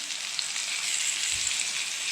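Sweet potatoes sizzle steadily in a frying pan after being flipped, a constant close hiss of frying with a brief low thump partway through.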